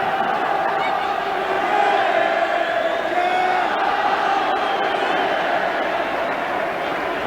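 Southampton supporters in a stadium crowd at a match against Blackburn Rovers make a continuous roar of applause, chanting and cheering, steady and full throughout.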